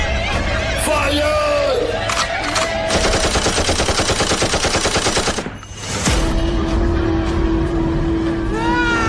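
Gunfire in a staged battle scene, a sustained rapid volley of loud shots in the middle, surrounded by shouting voices and a crowd, with music and dialogue carrying on afterward.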